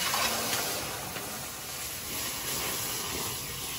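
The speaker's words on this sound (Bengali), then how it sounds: "এবার দুধ দিয়ে দেবো, আস্তে আস্তে দেবো।" Steady hissing and sizzling as milk is poured slowly into a hot pan of ghee-roasted semolina, continuous and fairly loud throughout.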